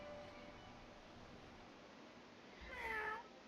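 A fire cat creature in a video game lets out one short, clear meow near the end, over a steady low hiss of ambient game background.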